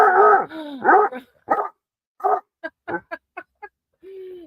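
Two dogs, a Boston Terrier and a Basset Hound, bark and whine at close range, starting with long yowling howls and moving into a quick run of short sharp barks. A low whimper closes the sequence.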